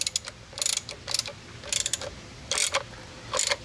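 Ratchet wrench tightening a part on a Sta-Rite Max-E-Glas II pool pump motor during replacement, giving four quick bursts of clicking ratchet strokes with short pauses between, close and fairly quiet.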